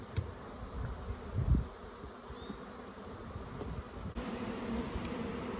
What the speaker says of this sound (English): All these bees flying around.